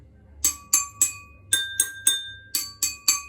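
A quick series of ringing clinks as a spoon taps drinking glasses, alternating between two slightly different tones, clear and close.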